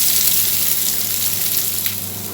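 Fennel seeds, curry leaves and potato frying in hot oil in a pan, a steady close crackling sizzle throughout with no voices.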